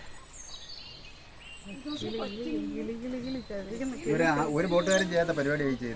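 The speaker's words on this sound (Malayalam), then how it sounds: "ഈ കിളികളുടെ ശബ്ദം കേട്ടോ?" Birds chirp and sing faintly around a boat on a Munroe Island backwater tour. The calls are scattered and high, clearest at the start, then half covered as people begin talking over them.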